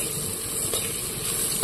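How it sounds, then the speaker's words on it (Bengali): Bata fish frying in a pan for a fish curry, giving a steady, close sizzle and hiss with faint stirring scrapes and a small clink near the end. "ভাজা শুরু করে দিয়েছি।"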